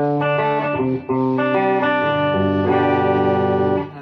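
Electric guitar played on the clean channel of a GFS distortion simulator mod, sustained chords ringing out loud and close with a brief gap before strumming resumes.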